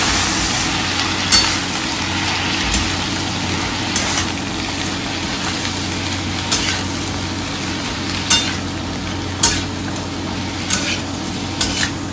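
Ridge gourd and potato fry in a pan as gourd greens are added, with a continuous sizzle and repeated scraping stirs of a utensil against the pan, over a low steady background hum and without talking.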